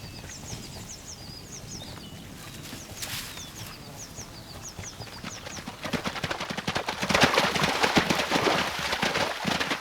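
Wild horses in the mountains of Abruzzo, Italy walk with soft, irregular hoof clops at moderate distance, birds chirping early on and a rougher rustling scuffle growing louder toward the end.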